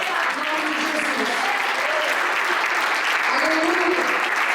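Church congregation applauding, sustained loud clapping from many hands with indistinct voices mixed in, continuous and dense.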